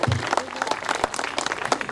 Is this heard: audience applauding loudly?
yes